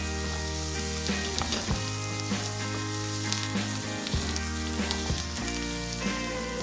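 Celery, garlic and white onions sauté in a pan for a tomato and dried-fish pasta, a steady loud sizzle with a few scraping stirs of a utensil across the pan, no talking.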